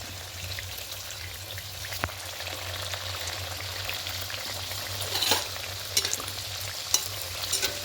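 Egg puris dropped one by one into hot oil, frying with a steady close sizzle and bubbling that swells briefly as each is added, with a few sharp crackles and no talk.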